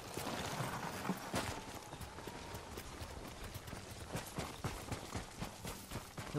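Horse hooves clip-clopping in the Ghost of Tsushima video game, a steady run of hoof strikes over a busy outdoor ambience, fairly close and moderately loud.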